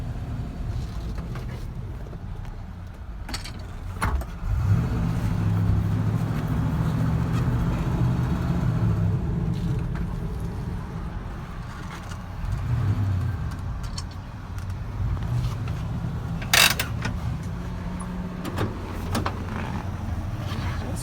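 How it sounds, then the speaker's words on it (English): A 1967 Chevrolet C20 truck engine running and idling after a drive around the block, a low steady rumble with a brief rise in revs, a few clicks and thumps, and someone talking intermittently over it. "We'll see how it idles now that we've run it around the block."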